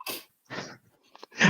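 A single sneeze, close and fairly soft, with short vocal bursts around it in an otherwise quiet indoor setting.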